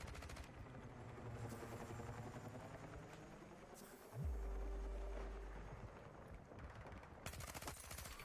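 Rapid automatic gunfire from an SGX in Battlefield 6, a dense continuous burst of shots with a heavy low boom midway, loud and close throughout.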